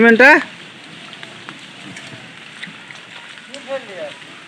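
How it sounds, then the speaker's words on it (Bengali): Heavy afternoon rain pours steadily over a garden work site as a continuous hiss, with brief voices at the start and near the end. "কি জোর বৃষ্টি হচ্ছে দেখো।"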